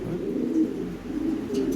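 Fancy pigeons at a seller's loft give a steady low cooing, several throaty rolling coos overlapping close by with no talk over them.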